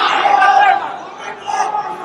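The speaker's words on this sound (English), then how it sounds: "You can almost hear the crowd not really sure who he wants to root for." A crowd at an MMA fight murmurs and chatters steadily, with a few voices rising above the din, busy and moderately loud throughout.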